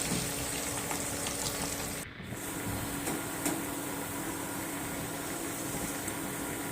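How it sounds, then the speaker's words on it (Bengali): Chopped onion, green chili and ginger garlic paste frying in hot oil, a continuous hiss of sizzling broken by one brief dip partway through. "পেঁয়াজ কুচানো কাঁচা লঙ্কা আদা রসুন পেস্ট দিয়ে ভালো করে ফ্রাই করে নিতে হবে"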